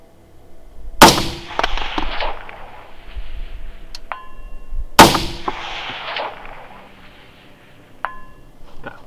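Two loud, sharp rifle reports from an NLA 6 ARC Phoenix carbon fiber rifle at an outdoor range, about four seconds apart, each ringing out with a long echoing decay and followed by a faint metallic ping.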